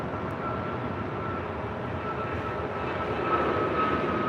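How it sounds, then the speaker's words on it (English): American Airlines A321neo jet taking off at LAX, a steady broad engine roar that holds level and swells slightly toward the end, continuous and fairly close with no voices. "Next takeoff here on the south side is American Airlines Flight 31 heading to Honolulu and an A321neo."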